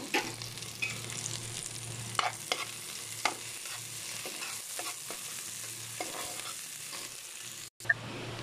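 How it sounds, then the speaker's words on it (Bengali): Steady sizzling of onions frying in hot mustard oil, with occasional soft clinks and scrapes of stirring, close and continuous with no voices. "পেঁয়াজগুলোকে হালকা ভাজা ভাজা করব।"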